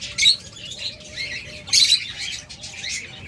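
Pet birds such as cockatiels, lovebirds and budgerigars chirping and squawking together in bursts, close and fairly loud, with no one talking.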